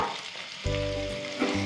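Potatoes frying in mustard oil and ghee for a white bottle gourd curry, a close steady sizzle with a low hum, brief and moderately loud, no voices.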